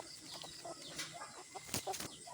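Native Bisaya chickens cluck and squawk in short, scattered bursts nearby, with faint outdoor background between calls.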